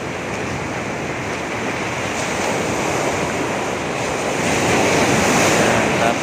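Ocean surf rolls in behind a seaside spot at sunset, a broad continuous wash of waves with wind buffeting the microphone, steady and fairly loud throughout.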